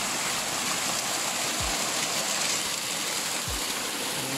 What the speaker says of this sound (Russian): Вот, смотрите, какой водопад.